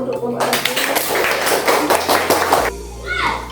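A second-grade class of primary school children claps together for a group in their classroom, a dense burst of hand claps lasting a couple of seconds, close by, with a voice and children's chatter around it.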